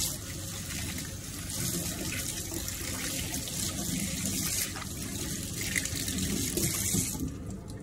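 A Uniden DECT-1580 cordless phone part is rinsed under a running tap, with a steady splashing stream of water flowing throughout and no voices.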